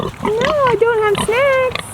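Backyard pigs kept for meat give drawn-out, pitched grunts and squeals at close range, overlapping a person's voice calling to them.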